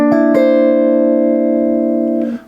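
A guitar chord voiced seventh, ninth, third and root, strummed once and left to ring out clearly for about two seconds before being damped, with no talk.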